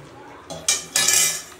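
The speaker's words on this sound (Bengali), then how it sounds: "ডিমগুলো দিয়ে দিলাম।" Eggs going into a pot of cooking red lentil dal with tomato and onion: a few sharp clinks and knocks against the metal pot, then a brief rush of sizzling bubbling, heard close up.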